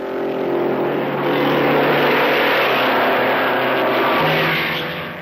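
Alfa Romeo Grand Prix race car from the era of Farina, with a loud, sustained engine roar that swells and then fades slightly as the car passes, heard on a grainy old newsreel recording.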